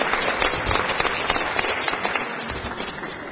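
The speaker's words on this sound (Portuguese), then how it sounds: "Uma forte salva de palmas para a ministra." Steady applause fills a parliamentary chamber during a general session on violence against the elderly, many hands clapping evenly at moderate loudness with no speech over it.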